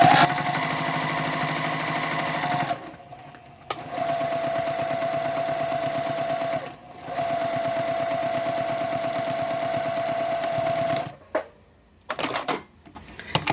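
A sewing machine stitches the side seam of a tote bag with a steady, rapid motor hum. It runs in three long close passes separated by short pauses, then ends in a few quick clicks.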